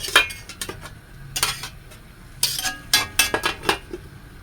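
Metal pot and utensil clatter from sautéed chayote being stirred and a lid set back on the pot, with scattered clinks and scrapes, some clustered, others sparse, close by and moderately loud, with no talking.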